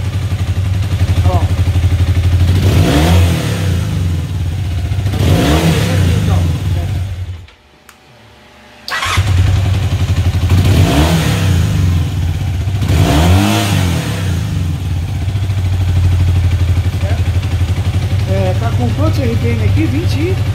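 A carbureted engine is revved repeatedly, rising in about six throttle bursts over a steady idle, with a brief dropout midway and some talking nearby.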